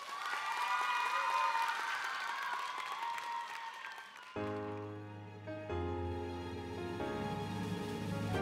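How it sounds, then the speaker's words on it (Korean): An audience at a children's Jeju-language song festival applauds to welcome a young singer: loud, bright clapping for about four seconds that cuts off as piano accompaniment begins. "큰 박수로 맞이해 주세요"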